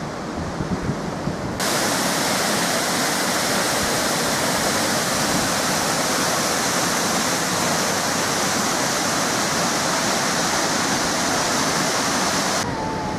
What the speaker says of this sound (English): having looked over the dam wall and seen the water spill